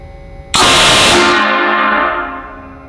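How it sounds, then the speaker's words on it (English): A single loud, blaring blast from plastic train horns on a 2020 Ram 3500 Mega Cab pickup starts abruptly, holds for about a second, then fades with a ringing echo. "this is our train horns. So I'll honk that really quick."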